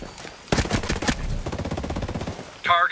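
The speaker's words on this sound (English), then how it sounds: "I hear gunfire." Rapid bursts of machine gun fire crackle in a military shooter video game, loud and close, running as dense strings of shots across most of the moment before a brief electronic whine at the end.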